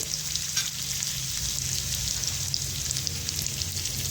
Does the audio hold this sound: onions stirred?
yes